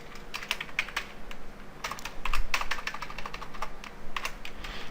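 Rapid typing of code on a computer keyboard: quick irregular clicking keystrokes in bursts, close and clear, with no talking.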